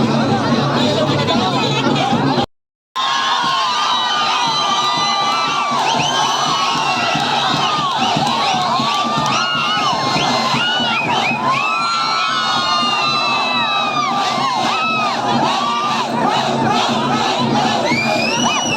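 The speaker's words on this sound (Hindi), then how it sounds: "ये पीछे चिल्लाने की आवाज़ इसलिए आ रही है क्योंकि इस भगवान को सुनाई नहीं देता।" Dense crowd shouting and cheering at a village festival for a goddess, loud and continuous with many overlapping voices and children's cries; a brief dropout near the start, then the roar resumes unbroken.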